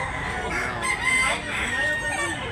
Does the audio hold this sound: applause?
no